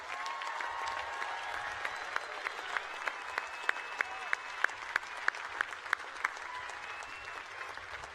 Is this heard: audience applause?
yes